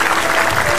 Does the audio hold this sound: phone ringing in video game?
no